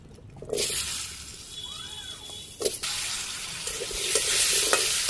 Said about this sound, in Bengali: একটু নাড়াচাড়া করে হালকা ভাজি করুন